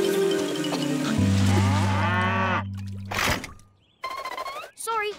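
Cartoon cows in a Thomas & Friends: All Engines Go! episode let out a long, loud, drawn-out moo, followed by shorter bursts of sound and voices talking.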